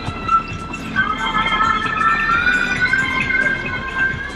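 Police car siren wailing steadily near a roadside with local shops in the Sundarbans area, India, loud and continuous with a wavering tone over background street noise.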